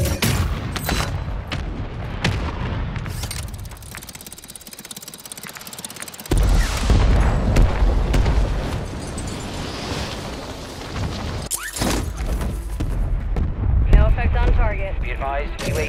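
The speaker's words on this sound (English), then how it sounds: "Mortar strike inbound now." Mortar strike explosions and gunfire in the video game Call of Duty Warzone, heavy booms and crackling shots rumbling loudly through the mix, with a thunderous burst midway and sharper bursts toward the end.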